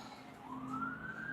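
An emergency vehicle siren wails in a city street, distant and fairly faint, its pitch sweeping steadily upward over a low background hum.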